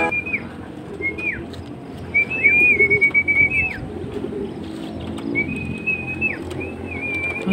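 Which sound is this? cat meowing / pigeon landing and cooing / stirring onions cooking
pigeon landing and cooing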